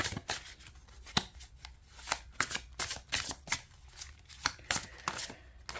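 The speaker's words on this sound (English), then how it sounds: "I love that click, click, click, click, click noise." Someone overhand-shuffles a deck of playing cards, producing rapid bursts of crisp clicking and flicking that come close and fairly loud in an uneven, repeating rhythm.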